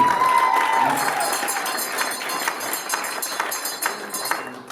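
A wedding crowd cheering and clapping for the bride, a dense patter of applause with raised voices that stays steady and fairly loud throughout.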